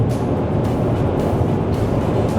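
A Jetour T1 SUV with a 1.5T or 2.0T engine drones steadily from inside the cabin while driving and shifting up to seventh gear, a loud continuous low hum and road rumble with no distinct breaks.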